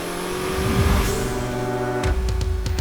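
A Chevrolet Corvette engine revs hard on a winding road near Frankfurt, a loud, close, rising roar with a shift near the end and pulsing engine notes, with no talk.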